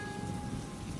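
Steady rain pours down as a dense, even hiss, close and loud, with no other sound over it.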